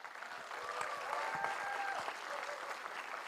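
A conference audience applauds, a fairly quiet, steady patter of many hands that sounds somewhat distant, with faint background tones and a few brief thuds underneath.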